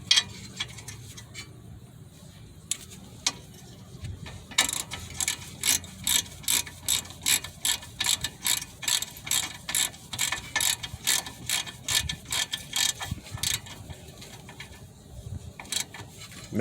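Ratchet clicking while tightening the outer tie rod nut on a Mazda 6, first in a few sparse clicks and then in a long run of sharp, regular close-up clicks with brief pauses.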